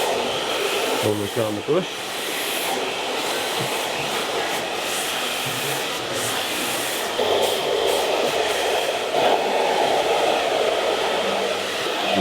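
A hair dryer blows in a loud, steady whoosh throughout while short hair is styled into a 1960s look with a brush and fingers, and a person talks over it.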